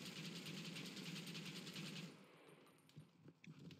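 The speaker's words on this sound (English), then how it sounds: "that's the Gatling gun" Rapid, dense Gatling gun fire from the game Red Dead Redemption: Undead Nightmare rattles loudly and continuously for about two seconds, then cuts off, leaving quieter scattered game sounds.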